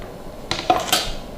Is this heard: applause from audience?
no